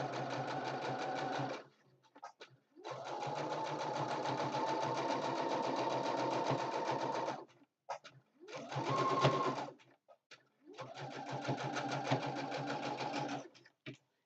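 A sewing machine tacks down layers of a fabric notebook cover in long, steady stitching runs of several seconds each, separated by short pauses, loud and close with no talking.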